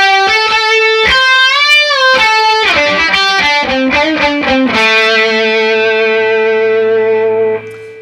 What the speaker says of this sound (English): so this whole part sounds like this